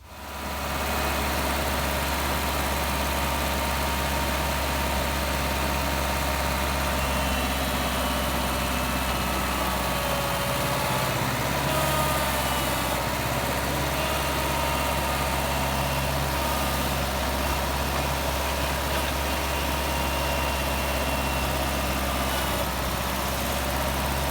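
Gasoline engine of a Ditch Witch trencher left abandoned for ten years, now running on its carburetor from a gas can: a loud, steady, continuous idle with a constant low drone and mechanical rattle throughout.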